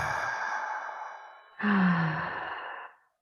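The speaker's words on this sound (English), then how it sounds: "Now fill your lungs with air." A slow, deep breath drawn in during a guided breathing and grounding exercise, with a soft airy rush that swells into a fuller, slightly voiced inhale partway through before fading out.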